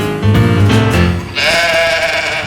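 A sheep bleats loudly and close, with one short, harsh call followed by a longer, wavering bleat, with no talk.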